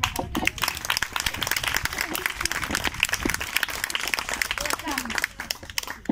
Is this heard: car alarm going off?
no